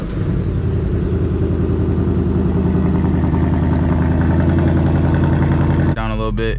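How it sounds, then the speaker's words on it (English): A 2024 Ford Mustang with the 10-speed is started from outside on a hot day. It makes a loud, steady engine rumble that holds for several seconds before cutting to a brief clattering change at the end. "So let's go ahead and start her up."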